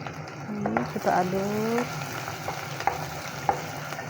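Onions frying in a pan for Sundanese nasi liwet, a steady sizzle with stirring clinks and scrapes close by, while a voice is heard briefly over the cooking.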